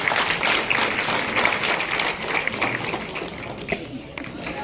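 Applause from a crowd at a party induction ceremony where hundreds of workers join a political party, steady clapping filling the whole stretch with faint voices mixed in.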